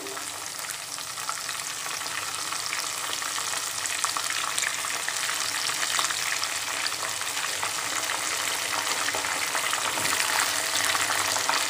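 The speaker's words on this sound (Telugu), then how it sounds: "ఇప్పుడు మనం మసాలా పెట్టుకున్న వంకాయలని ఒక్కొక్కటి ఇందులో వేసుకుందాం" Stuffed eggplants sizzle steadily in hot oil with browned onions, about half a kilogram of them in the pan, giving a dense, loud, continuous frying hiss with occasional stirring and no voices.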